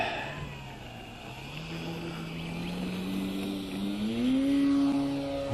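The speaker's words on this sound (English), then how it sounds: "taking off left to right" A Great Planes Decathlon 40 RC model plane takes off, its engine whining at moderate distance and rising steadily in pitch as it speeds up.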